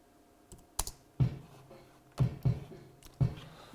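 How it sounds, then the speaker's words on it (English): Soloed kick drum microphone track on a loop: a handful of low, punchy thumps in an uneven repeating pattern, with some clicky bleed from other drums between hits, no voices. "So this is the sound of just the kick drum mic."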